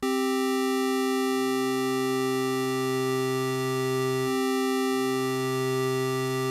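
A steady synth tone an octave higher hums with a deep sub oscillator layer that fades in beneath it, drops out briefly, then returns.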